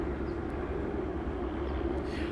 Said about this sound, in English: I see the helicopter arrived to listen to our broadcast.